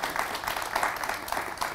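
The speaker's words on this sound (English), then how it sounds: "a round of applause." An audience at a live conversation event gives a short burst of applause: dense, steady clapping from many hands, fairly close and even throughout.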